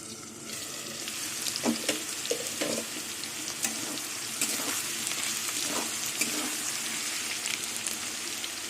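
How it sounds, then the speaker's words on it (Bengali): Diced potatoes with salt fry in oil in a pan, a dense steady sizzle with scattered pops and a few clinks of a utensil, close and constant without any voices. "নুন দিয়ে আলু দিয়ে আলু ঢেকে ঢেকে ভেজে নেবো"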